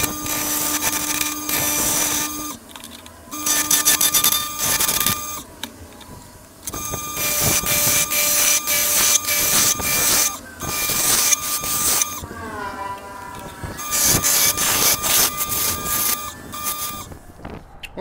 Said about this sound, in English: I'm gonna use my bowl gouge to kind of rough it out.